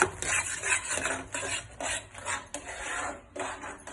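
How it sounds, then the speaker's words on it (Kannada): A spatula scrapes and stirs thick hesaru bele sweet in a pan, making repeated rasping strokes with short gaps between them, close and fairly loud with no voices over it. "ಇದು ಗಟ್ಟಿ ಆಗೋವರೆಗೂ ಈ ತರ ತಿರುಗಿಸ್ತಾನೆ ಇರಿ, ತಲೆ ಅಂಟಬಾರ್ದು"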